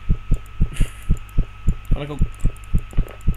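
A steady, thumping heartbeat from the video game One Late Night pulses in a regular double rhythm over a low hum, while someone speaks briefly in Dutch over it.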